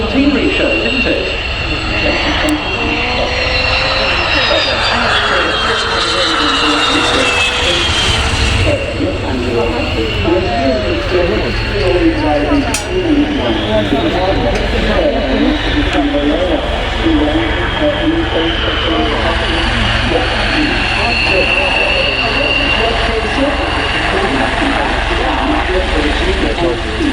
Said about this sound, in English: What a lovely, lovely machine. The G91R1A of the Catalani group, flown by Maurizio Ludovisi